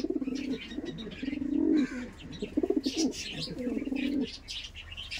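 Andhra pigeons, a breeding pair ready to lay, coo in several drawn-out phrases close by, with soft chirps and rustling between the calls.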